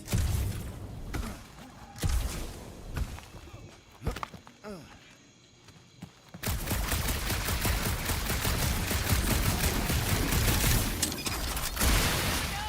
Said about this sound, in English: That aimless shooting isn't gonna scare the monsters away, right?